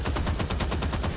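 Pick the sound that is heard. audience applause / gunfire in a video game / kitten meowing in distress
gunfire in a video game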